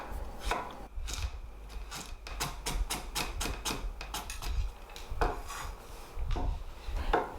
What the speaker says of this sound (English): Next, chop the onion and the carrot finely.